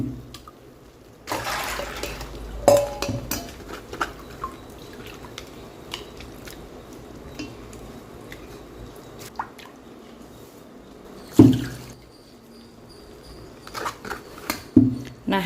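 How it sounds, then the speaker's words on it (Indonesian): Water drips and trickles while soaked soybeans are strained for homemade tempeh, quiet wet splashes scattered through a calm stretch with a couple of louder pours near the end. "Kalau dirasa kurang, jadi dikasih air lagi, airnya rendaman tadi, terus disaring lagi."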